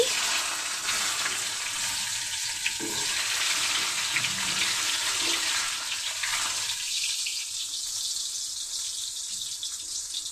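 Raw mango pieces drop into hot oil with tempering spices for a masoor dal, setting off a steady bright sizzle that changes character partway through as the pan settles into frying.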